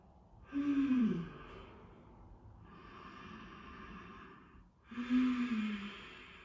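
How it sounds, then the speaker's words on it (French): Slow, deliberate breaths during a yoga session, with two long audible exhalations several seconds apart and a quiet, steady breathing background between them, close and alone with no talking. "prenez le temps de respirer pour vous"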